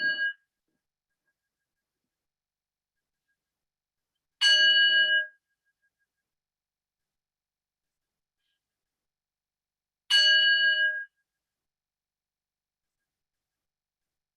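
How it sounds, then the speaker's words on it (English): A bell rings to close a yoga class: three separate clear strikes, each a bright ringing tone that decays over about a second, spaced by long stretches of silence, with no talking. "I'll go ahead and ring the bell."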